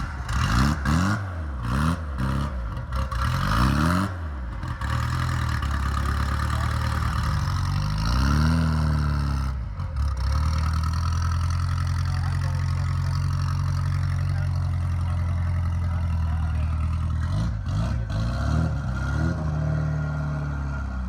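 Car engine cranks in a few rapid bursts, catches and settles into a steady, rumbling idle, then more cranking near the end, with no voices.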